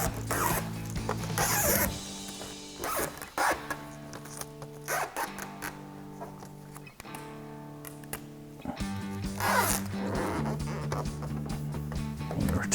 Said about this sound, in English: we're just gonna peel back our backing and press down along the way